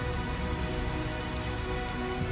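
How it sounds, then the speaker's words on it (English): Steady rain pours in the video game Tales of Zestiria, a dense, even hiss of drops on surfaces running continuously with no voices over it. "Tell us the details after we find shelter from the rain, if you please."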